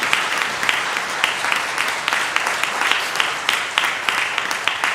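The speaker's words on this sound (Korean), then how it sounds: "환영의 박수를 보내주시기 바랍니다." A church congregation applauds to welcome honored guests at a Sunday worship service, a dense, steady wash of many hands clapping that fills the sanctuary for several seconds without letup.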